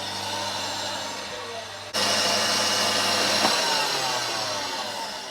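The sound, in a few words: mixer whisking pavlova meringue on medium speed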